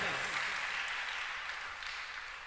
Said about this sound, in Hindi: या तो ताली बिल्कुल नहीं बजाओ, और बजाना है तो ढंग से बजाओ